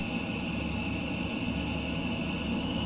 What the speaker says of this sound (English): Open the throttle.